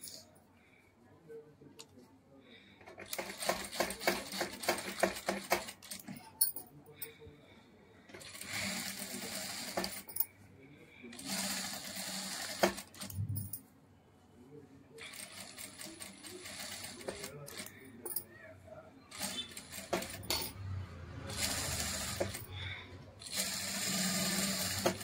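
An electric sewing machine stitches lace edging onto a garment lining in repeated bursts of rapid needle chatter, separated by short pauses, fairly close and moderately loud.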